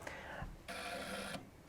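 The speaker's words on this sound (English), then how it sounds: "First, open the shutter via remote control" Optris thermal imager's shutter whirs open under remote control, two short mechanical buzzing bursts close by, the second longer, over a quiet room hiss.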